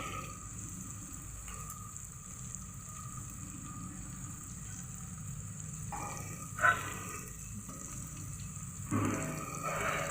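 Water runs steadily as it is added to spices for a bottle gourd and chana dal curry, a low continuous flow with brief clinks and a slightly louder gush near the end.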